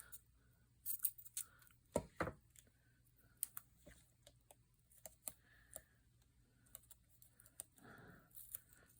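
Scissors snip through a craft piece to cut it in half, a few crisp close snips and clicks with small paper-handling rustles between them, no voices.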